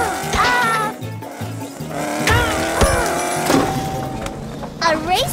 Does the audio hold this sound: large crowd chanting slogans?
no